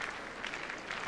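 An arena crowd at the 1998 Nagano Olympics applauds as figure skater Shizuka Arakawa takes the ice for her short program, with steady, fairly faint, distant clapping throughout.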